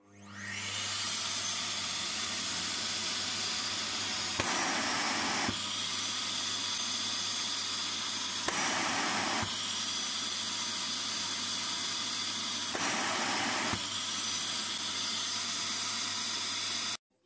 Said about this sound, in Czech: Vysavač musí jet, to je víceméně jasné.